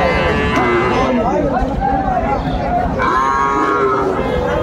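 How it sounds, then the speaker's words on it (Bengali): Friesian and cross-breed bull calves moo loudly and repeatedly at a busy rural cattle market, with overlapping drawn-out calls close by and the murmur of people talking behind them. "ষাঁড় বাচ্চা আমরা দেখছিলাম"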